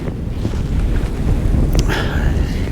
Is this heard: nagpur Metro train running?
no